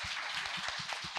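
Audience applause at a live Korean talk-show event, a steady wash of many hands clapping together, moderately loud and continuous, with no voices on top.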